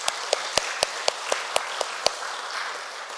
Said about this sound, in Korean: 우리 활불단 위해서 박수 한번 쳐주시면 좋겠습니다.